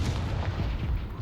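A Confringo blasting spell fired in the Hogwarts Legacy video game gives a short, loud, thumping blast with a rough burst of noise, over in about a second.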